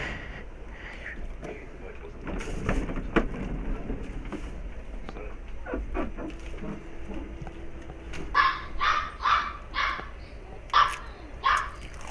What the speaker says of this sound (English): Sorry about Buck's dogs in the background.